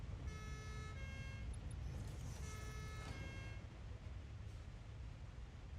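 A vehicle siren sounds in the video game Satisfactory. Two wailing tonal bursts rise over a steady low rumble, with a faint chirp between them.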